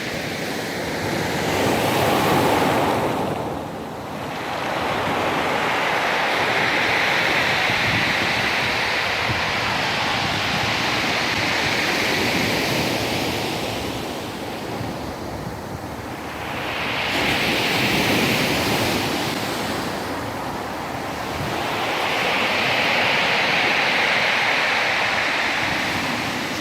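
Sea waves surge loudly onto the gravel shore at Patiti Point in Timaru, where the sea is calm further out. Two broad roaring swells build and fall back, close and continuous, with no talk.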